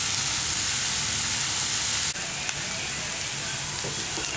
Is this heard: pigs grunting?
no